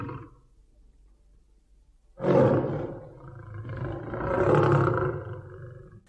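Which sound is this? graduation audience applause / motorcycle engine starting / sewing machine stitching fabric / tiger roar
tiger roar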